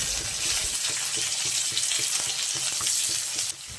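Chopped onion and garlic fry in hot oil in a pan, making a dense, constant sizzle close up with faint rhythmic stirring beneath, easing slightly near the end.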